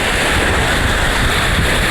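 Sea waves washing onto a beach, a steady broadband roar of surf with strong wind noise buffeting the microphone, loud and continuous without clear breaks between breakers.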